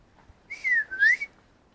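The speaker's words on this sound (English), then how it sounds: "I covered it up with my whistling." A single clear whistled phrase, a rising-and-falling tone lasting about a second, fairly close with a quiet background.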